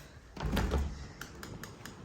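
Double doors in a house open onto the back garden with a soft thud and rattle near the start, then a few faint clicks of the handle and frame, quiet and close, with no talk.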